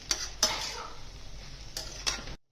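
Brinjal and potato bhaji being stirred in a pot, with four sharp metallic clinks of a utensil against the vessel over a low, steady background hiss.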